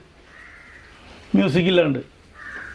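A crow gives a single loud, harsh caw close by, with softer bird calls around it and a person speaking briefly in the same moment.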